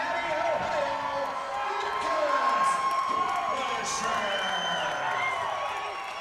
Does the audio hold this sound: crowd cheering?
yes